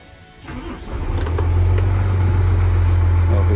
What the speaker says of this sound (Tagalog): try po natin start engine